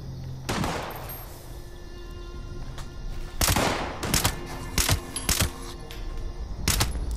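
Enemy gunfire in the video game Fallout 76 in a swampy area: scattered sharp shots and short bursts, some loud and close, others fainter, with rattling clicks in between and no talking.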